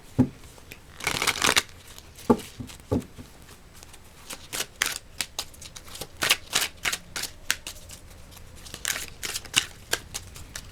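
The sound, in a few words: drawing an oracle advice card from the deck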